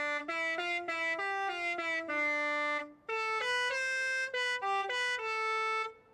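A Halo-themed car horn from the video game Forza Horizon 5 plays a bright, brassy melody of sustained tones in two phrases, separated by a brief gap, loud and alone.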